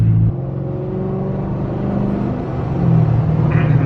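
A 2016 Chrysler 300S with a 5.7-liter HEMI V8 rumbles as it accelerates, its engine tone rising steadily and growing a little louder toward the end, with no talk over it.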